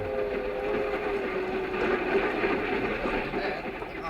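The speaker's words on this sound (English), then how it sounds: "I used to ride the commuting train to my job in the city" A commuter train ride heard as a radio drama sound effect: a steady, dense rumble of rolling carriage noise with faint rhythmic clatter, continuous throughout, and a voice murmuring beneath it.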